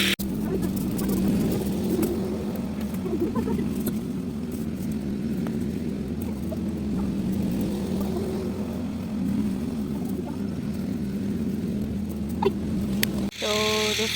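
A tractor works in a farm field at sowing time, its steady low engine drone running evenly and moderately close for most of the stretch before cutting off near the end, with no talk over it.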